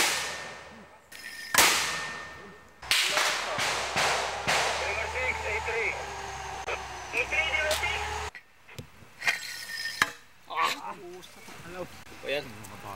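Sharp blasts and gunshot cracks ring out during an armed encounter in Basilan in 2007, sudden loud bursts separated by quieter gaps, with a voice talking between and after them.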